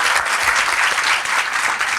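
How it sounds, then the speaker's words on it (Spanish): Applause from an audience welcoming a guest at a talk event on the Middle East and Europe, a close, steady burst of many hands clapping at once without a break. "tenemos un aplauso"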